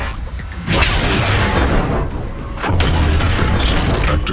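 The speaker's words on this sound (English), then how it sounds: "Some poor sod's about to get exploded." A booming explosion from the video game Atlas Reactor, with broadband blasts near 0.7 s and again near 2.6 s, loud and close, each followed by sustained rumbling.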